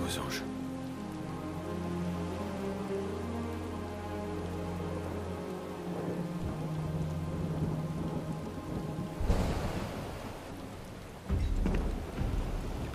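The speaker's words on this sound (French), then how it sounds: "Il pleut des cordes." Heavy downpour in Final Fantasy VII Rebirth, a steady wash of rain over a low musical bed, with two loud thunder crashes breaking in near the end.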